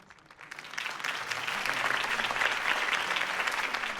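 Crowd applause in a Batman Telltale game scene following Harvey Dent's campaign speech, starting faint and swelling into steady, dense clapping that holds for several seconds.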